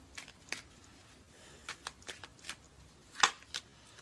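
Tarot cards shuffled and drawn from the deck at close range, a series of quick crisp riffles and slaps spaced irregularly, with one sharper burst near the end, and no talking.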